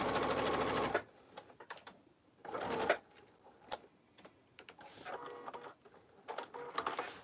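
A sewing machine top stitches a pocket divider on an Oxbow tote bag in short bursts, a first loud run followed by several quicker, quieter spurts of stitching, close by with no talk.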